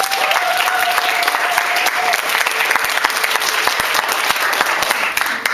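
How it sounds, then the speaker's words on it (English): An audience at a luncheon gives the ladies of Daughters Are You Listening a round of applause: steady, dense clapping from a full room that holds at an even level throughout. "So if everyone would give the ladies of Daughters Are You Listening a round of applause"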